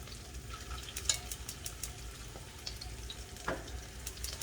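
Shallot, ginger, garlic and shiitake mushroom stir-frying over medium-low heat, a faint steady sizzle with occasional soft scrapes and clicks of stirring.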